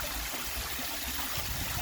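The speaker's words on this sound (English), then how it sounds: "We've always talked about having a waterfall here." Water pours steadily over a man-made garden waterfall in the Philippines, a continuous close rushing splash with no breaks and no voices.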